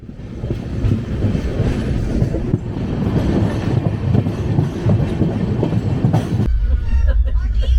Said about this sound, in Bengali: আমাদের ট্রেন মোটামুটি আধা ঘন্টা লেটে চলছে